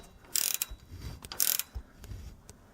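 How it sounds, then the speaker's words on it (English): Ratcheting wrench clicking on the upper shock mount of a 1997-2005 Nissan Frontier, two close bursts of rapid ratchet clicks separated by quieter pauses with faint handling noise, no talk. "using a ratcheting wrench"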